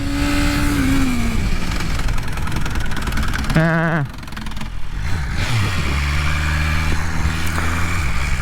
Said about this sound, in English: We got on the rear brake and the thing started hopping a little bit.